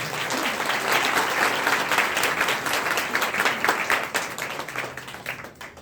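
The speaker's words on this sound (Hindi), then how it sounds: "इनके लिए एक बार जोरदार तालियां हो जाए।" Loud audience applause at an annual religious festival, a thick sustained wash of many hands clapping that begins to thin and scatter into individual claps near the end.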